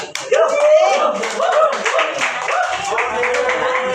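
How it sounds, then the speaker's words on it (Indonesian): People at a book discussion clap together, steady close applause from a small group with voices mixed in, lasting about four seconds. "Tepuk tangan dulu guys."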